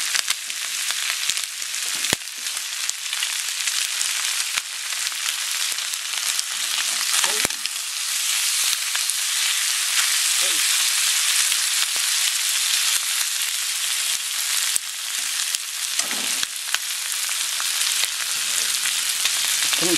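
Sliced onions sauté in a hot pan for chicken gizzard adobo, giving a loud, steady, broadband sizzle throughout with occasional soft scrapes of stirring and no talking.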